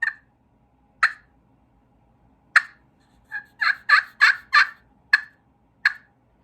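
A turkey call worked by hand gives a series of sharp, clear yelps, sparse at first and then a quicker run of four or five, loud and close against silence.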